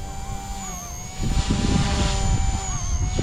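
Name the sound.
XK K130 RC helicopter flying, brushless main motor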